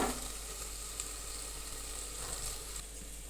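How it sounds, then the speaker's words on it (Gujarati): Onions sauté in a pan for Gujarati khara bhaat with a soft, even sizzle that stays faint and continuous throughout. "ડુંગળી સંતળાઈ ગઈ છે અને થોડી વાર માટે તેને આવી સીજવા દેશું"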